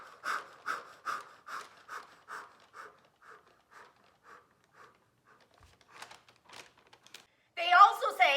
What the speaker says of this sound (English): put it around your nose and mouth and breathe normally